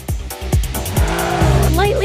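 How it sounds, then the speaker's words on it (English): A car drifting through a sharp curve in the Ace Racer mobile racing game, engine droning with rising tire squeal, overlaid by repeated short effect hits and a voice talking throughout. "Here comes a sharp curve. Let's try to drift."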